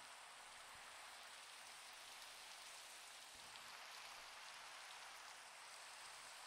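Steady rain in the video game Minecraft, a constant soft hiss of falling drops that stays even and unbroken throughout, faint and without voices.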